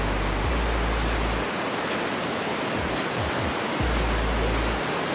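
Piduan Falls, a curtain waterfall, pours in a constant, loud, broad rush of falling water that runs unbroken throughout, with low wind-like rumbles near the start and end.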